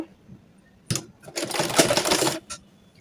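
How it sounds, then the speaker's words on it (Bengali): Sewing machine stitching the shoulder seams of a 53-inch burqa, a short burst followed by a sustained run of rapid mechanical stitching, close and fairly loud, then a brief final burst. "এই দুইটা কাঁধ আগে সেলাই দিয়ে নিচ্ছি"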